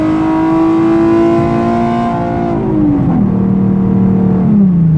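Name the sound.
modified 2009 Nissan 370Z 3.7L V6 accelerating, loud exhaust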